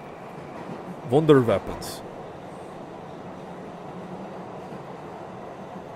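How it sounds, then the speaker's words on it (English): A train in a video game rumbles steadily into a tunnel, a continuous low mechanical drone carrying on from start to finish, while a brief line of speech breaks in near the start. "Train shakes violently as it enters the tunnel, and all the lights go dark."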